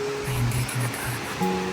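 Sea waves wash steadily onto a rocky seashore, a broad continuous surf hiss close by, with faint tonal hums and murmurs in the background.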